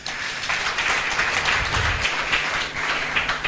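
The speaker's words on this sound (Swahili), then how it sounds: "Saa hii nataka umpigie makofi anapokuja kuchukua ile sasa ya waziri." Sustained audience applause welcoming the minister at a Kitui County public participation meeting on the draft fiscal strategy paper, a dense, steady wash of many hands clapping for several seconds without speech.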